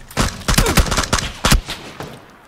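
Rapid bursts of video game gunfire crack out in a tight cluster near the start, then a few more loud shots follow before trailing off into quiet.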